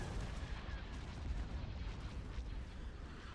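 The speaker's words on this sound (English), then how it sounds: "Ion cannon firing." Ion cannon fire in the space strategy game Star Wars: Empire at War, a steady roaring wash of heavy booming blasts and rumbling energy bursts with no clear gaps between shots.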